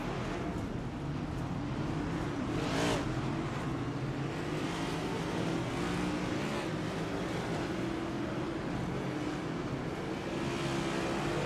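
A pack of iRacing race cars on a warm-up lap at Sonoma rumbles steadily behind a pace car, a dense continuous engine drone with slight revving swells, no talk.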